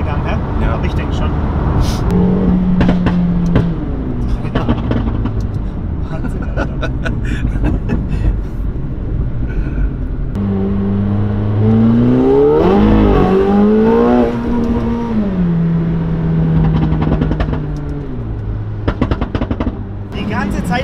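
A McLaren 720S Stage 2 accelerates hard through the gears, its engine note climbing and dropping with each shift as it sweeps up through fourth and fifth. The engine stays loud and steady throughout, with people talking over it.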